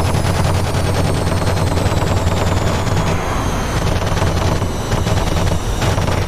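Rapid machine gun fire in a DCS flight simulator dogfight between a 1952 F9F-5 and a MiG-15, a loud dense rattle over a constant jet engine roar with a faint descending whine, no talk.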